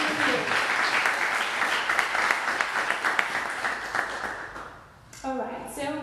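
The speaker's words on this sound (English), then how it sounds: "Let's give them a round of applause, please, from here, from Vienna" A conference audience in Vienna applauds steadily for several seconds, a dense wash of clapping that fades out before a voice begins speaking.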